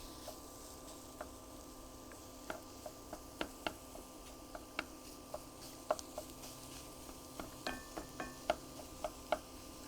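A utensil breaks up food in a hot frying pan: scattered light taps and scrapes ring out irregularly over a faint, constant sizzle, close and quiet.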